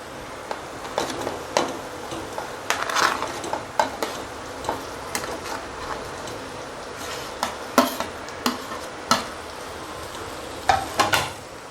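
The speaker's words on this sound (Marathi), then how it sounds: "आता आपण हे बटाटे उकडलेले त्यात टाकूया" Boiled potatoes being stirred and tossed in a pan over low gas, with repeated sharp scraping and clinking of a spoon against the pan over a faint steady sizzle.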